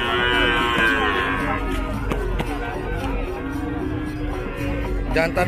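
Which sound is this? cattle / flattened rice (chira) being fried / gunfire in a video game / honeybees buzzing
cattle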